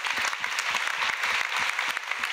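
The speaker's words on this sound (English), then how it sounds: "big applause for them" Room audience at the jPrime 2019 conference closing claps loudly and steadily for the speakers, a dense continuous patter of many hands with a few sharper claps standing out.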